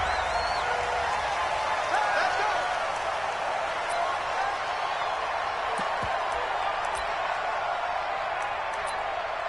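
A big stadium crowd at an Atlanta Falcons vs New Orleans Saints football game makes a dense, constant roar that stays loud throughout, with voices mixed into the noise.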